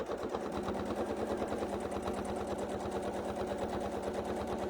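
A sewing machine runs steadily during free motion quilting, its rapid needle stitching forming a fast, even mechanical chatter that holds at moderate level throughout, with no talking.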